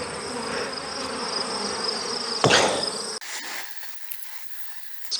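Agitated honeybees buzz loudly around mating nucs, a close, continuous swarm hum with a sharp knock midway, after which the buzzing thins to scattered nearby bees.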